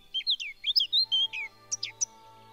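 Song of a Sylvia warbler in a garden or park setting: a rapid run of bright, clear chirping notes in two bursts, close and distinct against quiet background.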